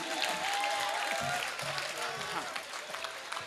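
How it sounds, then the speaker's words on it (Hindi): Audience applause at a Hindi poetry recital, steady dense clapping from a crowd filling the whole stretch, with voices talking over it. "मतलब अब कितनी बजाओ ताली"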